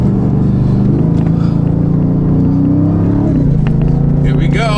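Ford Raptor R truck tearing across sand at close to 70 mph, its engine a loud, steady low drone with harmonics climbing then settling, voices talking over the roar.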